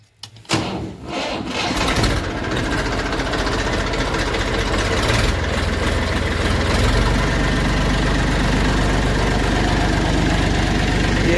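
A tractor engine cranks and catches after a brief quiet start, then settles into a loud, steady, low diesel idle that runs on without interruption and with no talk.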